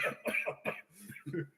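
Several short, rough coughs in quick succession, then a throat-clearing rasp, close and fairly quiet, during a wrestling talk show discussion.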